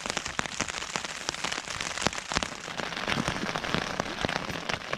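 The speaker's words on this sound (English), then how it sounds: "It's raining hard." Heavy rain drums on a Terra Nova Southern Cross tent at a loch-side kayak camp, a dense, constant patter with sharp close drop hits, loud and unbroken with no talking.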